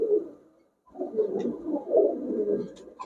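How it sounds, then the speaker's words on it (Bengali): Pakistani highflyer giribaz pigeons, including an old-line red plain pigeon, coo close by inside a pigeon shop: a soft, throaty coo, a short pause, then a longer rolling coo. "এটা পুরান জাতের লাল প্লেন কবুতর"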